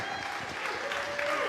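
Audience applause at a Friday night jazz performance in a church, steady dense clapping from a crowd that holds for the whole stretch, with some voices and a sustained instrument tone faintly underneath.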